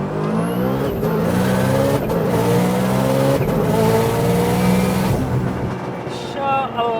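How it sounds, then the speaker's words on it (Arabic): An 875 hp Subaru STI with a modified turbocharged boxer engine accelerates hard, its loud engine note climbing steadily in pitch across several gear runs before easing off near the end. "ندعس لكم دعسة سريعة تستوعبوا قوة السيارة"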